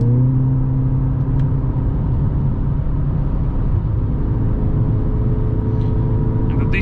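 A 2021 Mercedes GLA 45 S AMG accelerates hard at speed, a steady loud engine drone with rising tone over road and wind rumble heard from inside the cabin.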